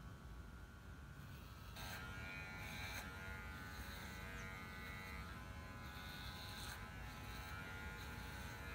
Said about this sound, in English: we're going to shave his legs here